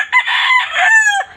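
A backyard fighting rooster crows loudly and close by, one full drawn-out cock-a-doodle-doo rising to a sustained high note before cutting off.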